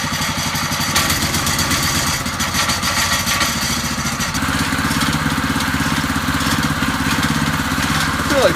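A Honda motorcycle engine running close by, a loud, steady idle with a rapid even putter and a slight shift in tone midway.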